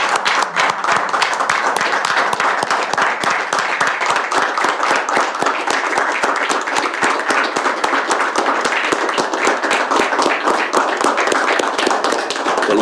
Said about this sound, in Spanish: Un fuerte aplauso a Gerardo.